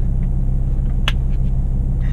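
A BMW M5 E60 exhaust gives a steady, deep low rumble while driving, heard close and constant with a brief higher whoosh partway through.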